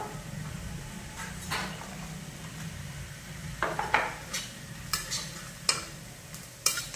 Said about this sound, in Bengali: এবার দিয়ে দিলাম লঙ্কা গুঁড়ো, হলুদ গুঁড়ো,